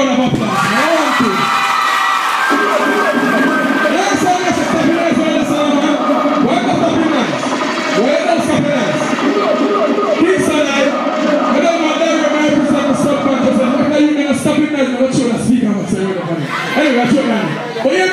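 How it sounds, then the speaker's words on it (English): A school crowd at Kingston High cheers and whoops loudly and continuously, with voices shouting over a dense, sustained roar throughout. "give yourself a round of applause"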